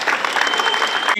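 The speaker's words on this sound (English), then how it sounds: "Please join me and give the Board of Trustees another round of applause." Audience applause for a university Board of Trustees at a college celebration, a dense steady clapping from a crowd that fills the whole moment before cutting off.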